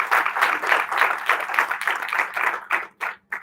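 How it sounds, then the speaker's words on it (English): An audience at an Institution of Engineers event in Nashik applauds, a close, steady patter of many hands that thins out near the end into a few scattered claps. "They deserve a big round of applause"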